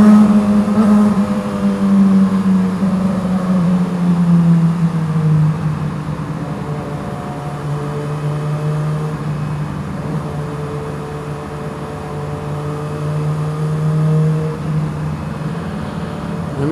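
A Yamaha R6 sport motorcycle ridden through city streets, its engine droning steadily with slow rises and falls in pitch as it shifts and cruises, loud and close, wind noise underneath, no talking.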